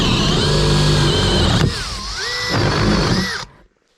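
A power drill running in a log cabin loft, a loud, steady whine that drops and wavers as it loads up, then rises again and cuts off abruptly, with no voices.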